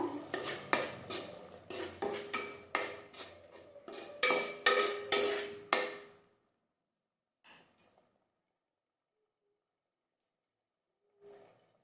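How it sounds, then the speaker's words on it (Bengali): A metal spoon stirs tomato in a cooking pan while making palak paneer, a quick run of close, bright scraping clinks against the pan for about six seconds, then near silence with a couple of faint knocks. "এইভাবে টমেটোটি দিয়ে নাড়তে থাকো"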